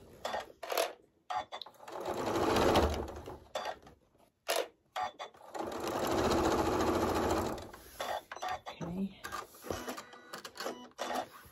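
Sewing machine stitching a scrap-quilt pinwheel block, two long steady runs of rapid mechanical whirring broken by short pauses and small clicks and handling sounds, close and clear with no talk.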